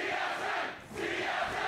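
Arena crowd at a League of Legends LCS match between TSM and CLG, a dense roar of cheering and chanting that dips briefly in the middle and then swells back, loud and continuous.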